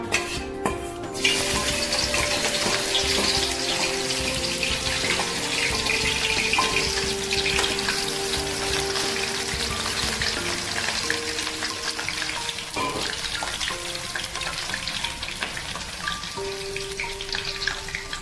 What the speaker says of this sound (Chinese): 锅热后放入适量的油，油热以后放入准备好的生姜、八角、桂皮。